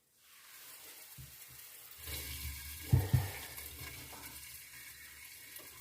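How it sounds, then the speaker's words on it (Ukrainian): Raw dough for belyashi meat pastries laid onto a preheated frying pan, a close sizzle that swells as the dough hits the hot oil, with a couple of soft knocks and an ongoing crackle afterward. "Викладаємо тільки на розігріту сковорідку."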